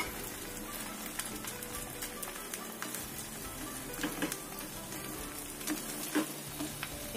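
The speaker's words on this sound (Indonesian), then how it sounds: "Kita goreng lagi." Eggs and long beans fry in a pan with a steady, dense sizzle and crackle that runs the whole time, with small pops and stirring touches and no talking.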